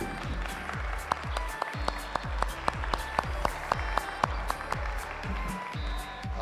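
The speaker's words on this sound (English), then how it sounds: "Now a round of applause for all those wonderful people." Applause rises for the volunteers at a FIRST robotics qualifying tournament in a school gym, with scattered loud individual claps over a crowd clapping, and a low rhythmic thumping underneath.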